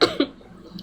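Two quick coughs from a person who is sick, close and fairly loud, the second following shortly after the first, then fading into quiet room noise.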